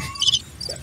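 Crickets chirping as a sound effect, a few short high trilled bursts with small gaps between them, fairly loud and alone with no talking.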